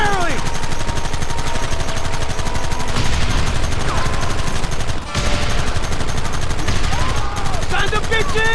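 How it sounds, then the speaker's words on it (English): Sustained enemy gunfire in the Wild West shooter Red Dead Redemption: dense, continuous volleys of rifle and pistol shots crackling from several directions at once, loud and unrelenting, with a voice shouting over the firefight. "Stop shooting at me!"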